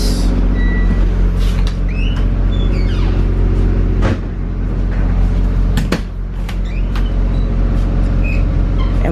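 Heard from inside a bus, the engine idles with a loud, steady low rumble, broken by a few sharp clunks and rattles near the middle and a brief dip before the drone resumes.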